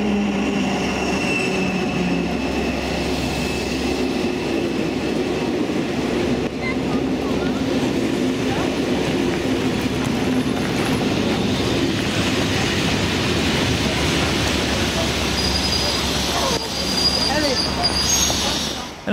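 Locomotive-hauled train 67606 arrives with a steady, loud rolling rumble of wheels on rails, high wheel squeal threading through, and a dull roar that holds for the whole stretch.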